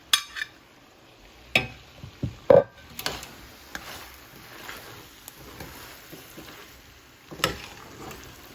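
Italian sausage dropped into a pan over medium heat and stirred, with a few sharp clacks of a utensil against the pan over a soft, continuous sizzle.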